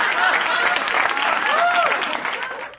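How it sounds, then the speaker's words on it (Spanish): Loud, dense applause from a crowd, sustained for a few seconds before fading out, with faint whoops mixed in. "Aplausos."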